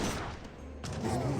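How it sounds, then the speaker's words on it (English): A leather cannon fires in an Age of Empires 3 battle, giving a burst of rapid, booming artillery shots with a short break in the middle, loud and close with no talking. "Now we got the leather cannon firing away."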